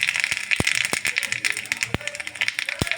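Bay leaves, dried red chillies and whole cumin frying over a low flame in oil left over from frying moong dal fritters, giving close, sharp pops and crackles at an irregular pace.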